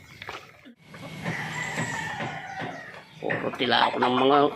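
Chickens cluck and call nearby under steady background noise, with a person talking over them toward the end.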